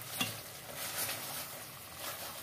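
Pork chops stirred and tossed in sauce in a frying pan, a steady soft sizzle with scraping and stirring strokes at close range, no voices.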